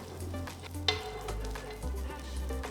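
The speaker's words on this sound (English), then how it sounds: "Now heat the tawa, add a little butter on the tawa and spread it across evenly." Butter sizzles and crackles softly on a hot tawa, a quiet steady fry with a few small clicks and scrapes as it is spread around.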